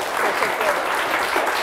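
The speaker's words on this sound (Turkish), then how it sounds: "Bir de teselli alkışı rica ediyorum." A studio audience at a Turkish TV word game show, Kelime Oyunu, gives a round of consolation applause, a steady dense wash of clapping that holds at even loudness throughout.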